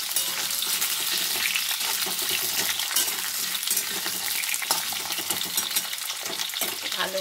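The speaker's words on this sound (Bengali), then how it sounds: "এবার আমি আলুগুলোকে দিয়ে দেব। আলুগুলোকে আমি এবার খুব ভালো করে ভেজে নেব।" Potatoes crackle and fry in hot oil, a continuous even sizzle at moderate loudness with faint stirring clicks scattered through it and no speech.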